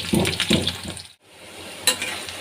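Sliced onions fry in mustard oil in a pan, a close, bright sizzle with a few stirring scrapes, briefly dropping out mid-way before the crackle resumes.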